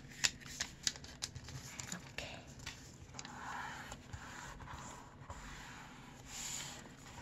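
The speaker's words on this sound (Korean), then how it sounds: "그대로 접어줍니다." Colored paper is folded into an origami gift box with soft crinkles, creases and faint rustling up close, while a quiet voice speaks in the background.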